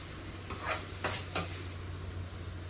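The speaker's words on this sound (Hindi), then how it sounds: "इस तड़के को निकाल लेंगे हम प्लेट में।" Cooked tadka being scooped from a kadhai onto a plate, with three short metallic scrapes of a spoon against the pan over a faint sizzle and steady background hum, with no voices.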